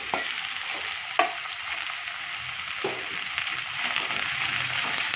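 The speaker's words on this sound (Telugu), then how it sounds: "ఈ బీరకాయ బాగా ఫ్రై చేయాలండి." Cut ridge gourd pieces frying and being stirred in a pan for a tomato curry, a steady close sizzle with a few sharp clinks of the spoon against the pan.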